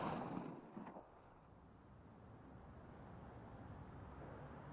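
A burst of sharp gunfire cracks at the start in the video game RoboCop: Rogue City, then fades into a steady low rumble of background noise with no further shots.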